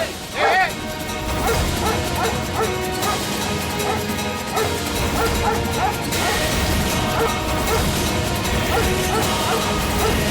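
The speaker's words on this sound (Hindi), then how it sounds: "कुत्ते क्यों भौंक रहे हैं?" Dogs bark in a Hindi television drama scene. Their yaps and barks sit under a loud, continuous musical score and voices.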